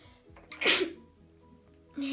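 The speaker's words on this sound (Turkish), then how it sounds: "Bazen hapşırabiliyorum." One sharp sneeze bursts out close to the microphone amid quiet room sounds.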